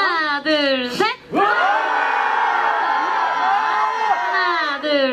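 Fan-meeting audience cheering and screaming in loud sustained waves, high excited voices layered together with a brief dip partway through.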